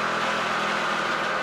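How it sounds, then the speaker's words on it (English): A Chevrolet NASCAR Pinty's Series race car engine runs at a steady mid-pitched drone as the driver bumps the throttle, the revs held fairly even and loud throughout. "You can hear him bumping the gas and bringing up the revs"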